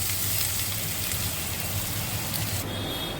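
Onions frying in a pan over a high gas flame, a loud, dense, steady sizzle with a low hum underneath, unbroken and without speech.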